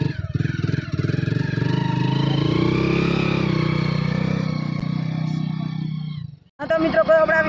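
A motorcycle engine runs steadily and fairly close with a droning mid-range hum, then cuts out abruptly. People's voices follow right after.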